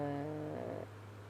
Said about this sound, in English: He's meowing at me because I stopped reading.